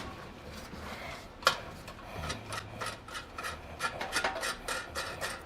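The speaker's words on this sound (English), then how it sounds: "Take the nuts off the bolts." Nuts being loosened and unscrewed from the bolts of a Moss Grills American Queen BBQ grill, heard as close, repeated metallic rasping and rubbing with a few sharp clicks, without talk.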